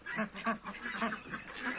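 Heavy German-line Muscovy ducks and geese in a poultry yard at evening feeding make a busy mix of honks and quacks at once, moderately loud and close.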